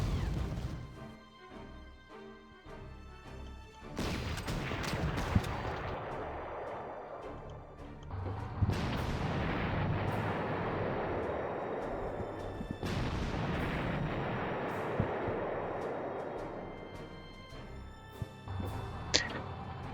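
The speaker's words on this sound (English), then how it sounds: "That was that strategic bombing." Strategic bombing in a WWII strategy video game, heavy explosions and crashes landing in repeated bursts every few seconds over a dense rumbling wash of battle sound.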